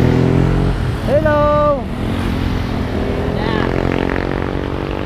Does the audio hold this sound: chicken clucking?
no